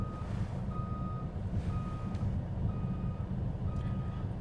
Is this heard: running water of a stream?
no